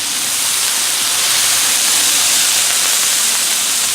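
Water squirted onto a hot Blackstone griddle sets off a loud, close, continuous steam hiss, a broad rushing sizzle that holds steady and swells slightly over several seconds.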